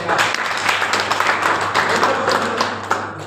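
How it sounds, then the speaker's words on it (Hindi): An audience at a network marketing seminar clapping hard, a brisk patter of many hands with occasional louder slaps and thumps, fairly close and lively, tapering slightly near the end. "मैं चाहूंगा नेटवर्क मार्केटिंग के लिए जोरदार ताली होनी चाहिए सब।"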